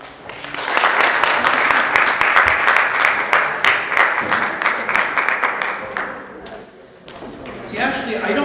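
A conference audience applauds as a speaker on migrant entrepreneurship takes the stage: a dense, sustained burst of clapping that swells quickly, holds for about five seconds, then thins out as voices come in.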